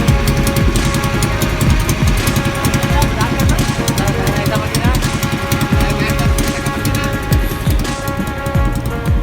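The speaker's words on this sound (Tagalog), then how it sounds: "So isang makina lang talaga yung umaandar." Kawasaki 18HP engine running steadily, one of a double 18HP and 20HP engine setup on trial, a loud continuous chugging drone with rhythmic pulses throughout, with voices talking over it.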